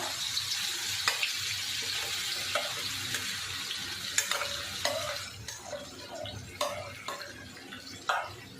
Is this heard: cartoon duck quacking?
no